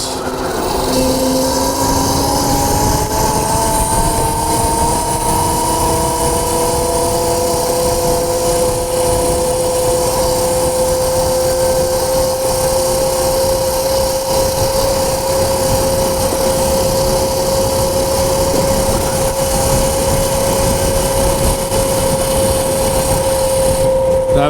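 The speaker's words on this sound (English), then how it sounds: "Now this is a stock Voloci motor on this bike" Stock Voloci electric bike motor running, its whine rising in pitch over the first few seconds and then holding a steady, loud tone with rushing road and wind noise.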